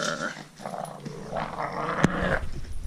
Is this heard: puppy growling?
yes